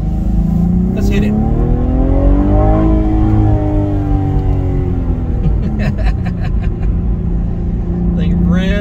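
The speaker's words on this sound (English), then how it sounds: "Think revs like a Formula One car." A Cadillac ATS-V revs hard while accelerating, its engine note sweeping up and down loudly from inside the car, with brief bursts of voices over it.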